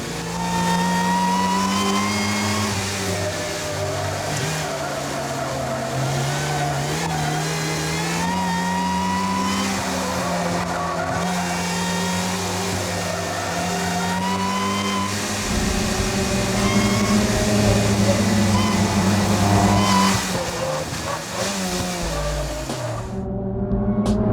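A CT Engineering supercharged car engine making about 260 horsepower, set up for road racing and time attack, revs loudly and steadily with rising and falling harmonic pitch, close by and dominant throughout, swelling louder near the end.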